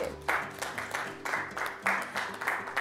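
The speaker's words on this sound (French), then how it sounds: "Applaudissez, applaudissez" Rhythmic clapping on a French cooking game show after scores are announced, with regular bursts of claps over a steady low musical hum.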